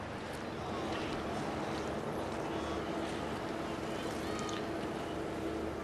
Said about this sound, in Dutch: Een rondvaartboot, dat is zo'n boot die geen Nederlander kan missen in zijn leven